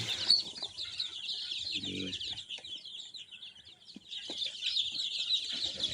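A flock of four-day-old native desi chicks peeps continuously in a dense, high chorus, close and fairly loud, briefly thinning before rising again.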